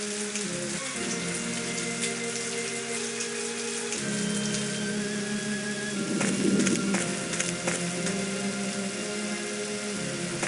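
Light drizzle in the Agatha Christie game And Then There Were None: a steady patter of raindrops hissing over a surface, with a soft low ambient bed and a brief louder burst of splashing midway.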